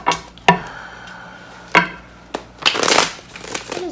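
Tarot cards being shuffled by hand, a few crisp riffling snaps and slides up close, ending in a longer rustling burst of card shuffling with no talking.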